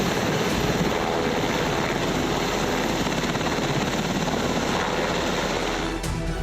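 US Air Force Black Hawk helicopters drone with a loud, steady rotor and engine roar that holds unbroken throughout, with no other sound breaking through.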